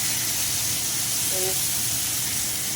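Frozen fish frying in a pan of hot oil gives a loud, continuous hiss and sizzle throughout.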